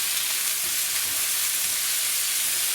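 Chopped tomato frying on high heat in a pan for king prawn masala, a steady dense sizzle that stays loud and even throughout with no voices.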